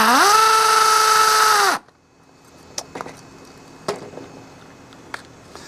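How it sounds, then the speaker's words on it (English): Power drill whining at steady high pitch as it bores into a block for mounting outdoor HVAC conduit, loud and close for under two seconds, then stopping abruptly, followed by quiet room tone and a few sharp knocks and clicks. "Hopefully my drill will go through the block."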